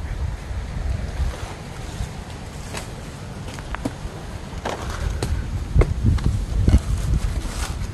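Strong wind gusts through forest trees, a continuous loud rushing roar with rough microphone buffeting that swells louder toward the end.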